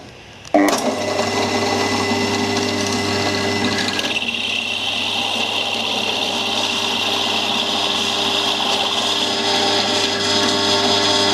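A sudden start into a steady, high whining drill as a Forstner bit bores into very hard wood, constant grinding whir that briefly shifts pitch midway and continues.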